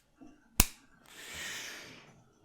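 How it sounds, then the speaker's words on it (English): A single sharp hand clap in an indoor room, one loud isolated crack followed by a brief hissing wash of background noise. "I'm gonna clap again"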